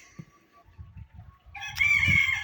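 Chickens murmur and cluck softly, then a rooster crows loudly toward the end, with faint outdoor background noise.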